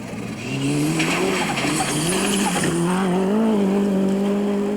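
A Mitsubishi Galant rally car skids as it leaves the road on a rally stage, its engine howling steadily while the tyres squeal loudly and close for several seconds under commentary.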